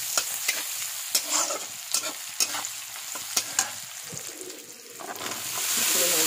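Turmeric and salt dropped into hot oil in a pan for fish curry crackle with a bright, steady sizzle, punctuated by several sharp spoon taps and stirs, the frying hiss swelling louder toward the end.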